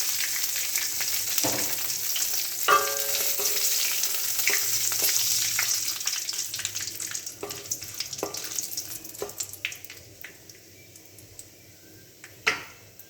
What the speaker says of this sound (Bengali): এখানে 1 টিস্পুন মতো কালো জিরে ফোড়ন দিয়ে দিলাম